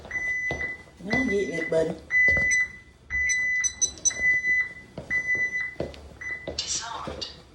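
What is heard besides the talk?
home security alarm system beeping before disarm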